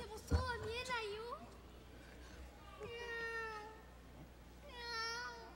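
A voice in a Japanese anime imitates a cat, giving three drawn-out, rising-and-falling meows spaced a couple of seconds apart over faint background hum.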